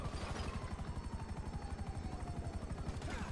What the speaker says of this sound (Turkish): Siyah helikopter.